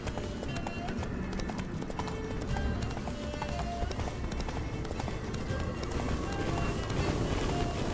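A horse gallops in The Witcher 3 video game, its rapid hoofbeats clattering steadily and loudly over a rushing, windy game background.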